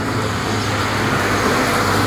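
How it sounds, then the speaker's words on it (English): Loud, dense road rumble of a heavy vehicle close by, steady broadband roar throughout with no talking. "big loud truck."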